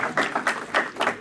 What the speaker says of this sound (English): Every time I show that clip, it gets applause.